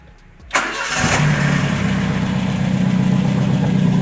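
A car engine cranks and starts after its crossed drive belt was tensioned, a brief starter whir followed by a steady idle with a faint whine, close and without speech.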